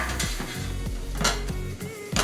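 Meatloaf being worked loose and lifted from a pan, with repeated scraping and clanking of a utensil against the metal dish in quick, close bursts, followed by a brighter clatter near the end.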